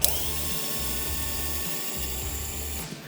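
A fastener being unscrewed from a storage box on a Polaris Ranger XD1500 UTV, with steady mechanical whirring and ratcheting close by, running evenly for about three seconds with a brief pause near the end.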